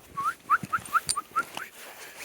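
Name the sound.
dogs whimpering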